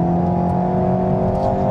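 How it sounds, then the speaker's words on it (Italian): Sports car engine pulling hard under acceleration, either an Alpine A110 or a Renault Megane RS Trophy, a loud, steady droning note that holds through the whole moment with no talk over it. "Sentite l'erogazione di questo motore, è un canto."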